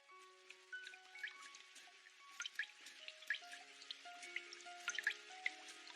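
Cartoon water dripping through the leaky roof of Suneo's villa in Doraemon: a steady run of bright, plinking drops at varied pitches, landing close and clear with no voices.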